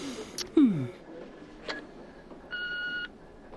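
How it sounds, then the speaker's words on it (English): A series of electronic tones: a descending bleep, short blips, then a sustained flat beep, like a phone line or answering machine signal. "She rang the flat but got the answering machine."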